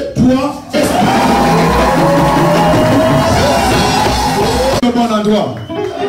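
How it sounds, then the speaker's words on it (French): A loud crowd erupts in cheering and shouting, a sustained roar of many voices that breaks off abruptly, then scattered calls and talk. "Tout le monde va acclamer."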